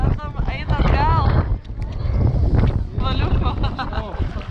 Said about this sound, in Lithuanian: Vėjas